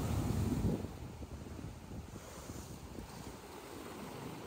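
Strong high-tide ocean waves surge and crash at Boa Viagem beach in Recife, a loud rushing burst at the start easing into a steady roar of surf with heavy wind noise on the microphone, no talking.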